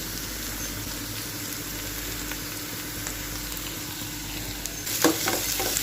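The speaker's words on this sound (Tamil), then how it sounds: "ஸோ இந்த ஸ்டேஜில் நம்ம நசுக்கி வச்சுருக்க பூண்டு சேர்த்துருவோம்." Crushed garlic added to lightly browned onions sizzles in a pan for a dry fish gravy, a steady close frying hiss with a brief burst of stirring clatter near the end.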